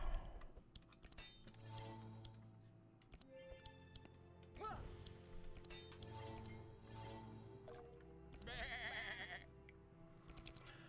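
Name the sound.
sheep bleating in a video game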